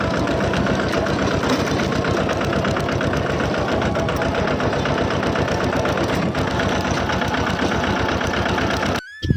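A tractor engine chugs steadily at a low, even rhythm on a farm field, running close and loud without pause, then cuts off abruptly at the end.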